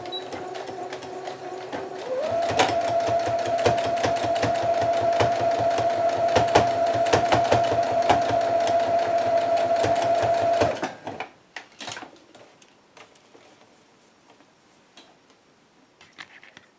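Sewing machine stitching back and forth on scrap fabric and lace, a loud rapid ticking whir with a steady motor tone that runs for several seconds, then stops, followed by faint clicks.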